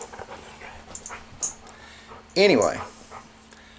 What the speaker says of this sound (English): If you hear me scream or start fussing, I'm fussing with these dogs